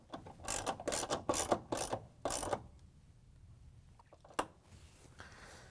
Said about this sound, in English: use our 3/8 inch socket with the ratchet to tighten it down